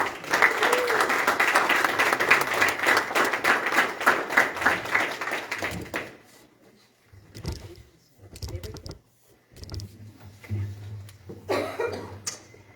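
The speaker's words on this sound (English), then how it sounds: "a round of applause for Edwin Govera Garcia" Applause for a student at a school committee meeting, dense clapping for about six seconds, then it stops, leaving coughs and small room noises.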